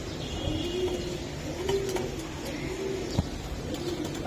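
Racing pigeons coo in a slow repeating pattern, several low calls spaced about a second apart over a steady background hum.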